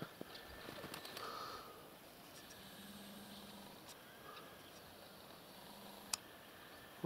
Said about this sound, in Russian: Это у меня голуби на крыше.